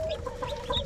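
Young chickens cluck and chirp steadily in a coop, with overlapping bird calls close by at moderate volume and no talking.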